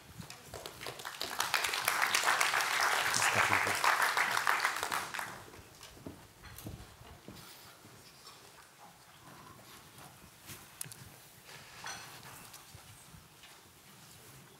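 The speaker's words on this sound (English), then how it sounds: "Please, a round of applause for Martin Hellwig." A conference audience applauds a speaker, clapping that swells loudly for several seconds then fades, followed by quieter room noise and scattered sounds.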